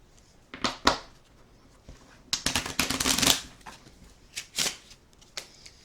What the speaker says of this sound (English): let's just go ahead and give them a shuffle